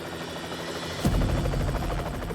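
A helicopter's low, throbbing rotor beat fills the air, growing suddenly louder and closer partway through.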